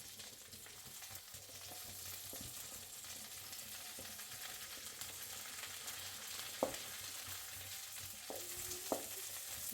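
Cauliflower fries in oil with a soft, continuous sizzle at low volume, with a few light clinks of stirring.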